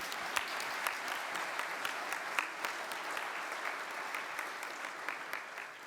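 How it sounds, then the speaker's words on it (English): Audience applause in a lecture hall during a geotechnical conference contest, a steady wash of many hands clapping at moderate distance, continuous for several seconds with scattered sharper claps. "So now it's time for an applause."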